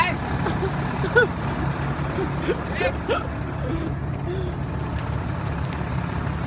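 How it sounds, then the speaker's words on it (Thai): Trucks and cars crawl in a traffic jam, with a continuous low engine rumble and a few brief higher squeals and chirps over the top. Faint voices are present. "รถติดครับวันนี้รถติด"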